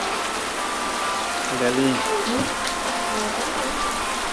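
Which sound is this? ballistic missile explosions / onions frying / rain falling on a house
rain falling on a house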